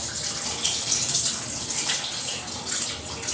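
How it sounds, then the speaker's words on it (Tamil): Tamarind water poured into a pot of sambar, a continuous splashing gush of liquid, steady and fairly close. "புளி கரைச்சல் வந்து இப்போ சாம்பாரில் ஆட் பண்ணிக்க வேண்டியதான்."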